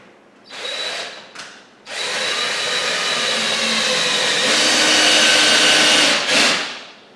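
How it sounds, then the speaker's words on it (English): A power drill drives screws into a Vizio E75-E3 4K UHD TV, with two short whirring bursts followed by a long, loud, sustained motor whine that stops abruptly. "And then we will put our screws in here."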